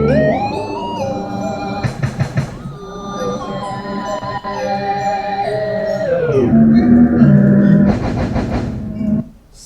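Game audio in Unity warped by a pitch shifter effect, a smeared, wobbling tone with gliding pitch and harsh metallic bursts, loud and continuous throughout.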